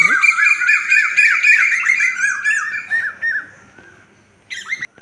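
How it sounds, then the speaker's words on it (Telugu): Several birds call and chirp over one another in bright, overlapping morning bursts near a home, then quiet down briefly before a final short flurry of chirps. "ఈ బర్డ్ సౌండ్స్ అంతా ఇది మార్నింగ్ అండి మా ఇంటి దగ్గర"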